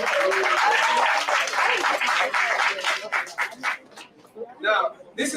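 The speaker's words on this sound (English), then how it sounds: "Round of applause for each other for attending." A gathered crowd gives a hearty round of applause, thick and loud at first, then thinning into scattered claps with a few murmuring voices as it fades out.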